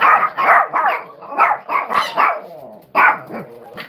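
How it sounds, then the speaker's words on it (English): Four chihuahuas bark in quick, repeated bursts close by, small high yaps with brief growly edges coming in uneven clusters with short pauses between them. "noise. There's 4 chihuahuas here."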